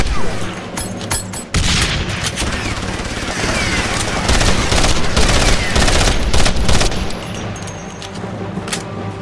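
Heavy explosions boom amid dense, continuous gunfire in a loud video game beach landing battle, explosives detonating with blasts and shots overlapping for the whole stretch.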